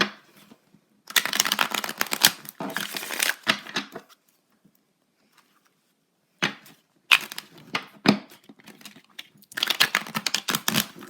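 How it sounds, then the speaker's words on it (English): Close-up tarot card shuffling in several crisp, riffling bursts, separated by short quiet pauses, with no talking. "So I'm going to shuffle"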